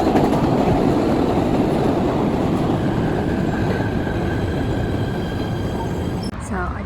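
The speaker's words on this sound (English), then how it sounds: "So I just got off the PATH train" Steady, loud rumble of a PATH commuter train in motion, continuous wheel and track roar with a faint high whine, holding for several seconds before a brief clunk near the end.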